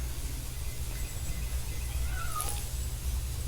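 A cat meows in the Magic: The Gathering Arena card game, a couple of short, soft mews sounding over a quiet low hum.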